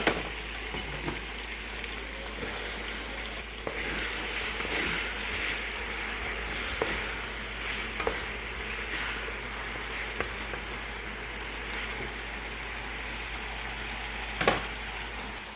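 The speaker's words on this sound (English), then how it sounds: "I go ahead and add my leeks to continue frying the tomato with it." Continuous sizzling of tomato and leeks frying in a pan, with occasional clinks and stirring scrapes, close and steady throughout.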